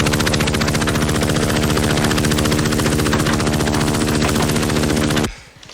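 A medevac helicopter, its rotor throbbing in a loud, rapid, steady beat close by for over five seconds before cutting off abruptly.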